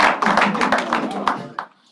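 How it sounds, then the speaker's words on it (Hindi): A stand-up comedy audience applauds to welcome a comedian, a dense, close burst of clapping that holds steady and then quickly dies away into silence. "जोर से ताली बजाइएगा।"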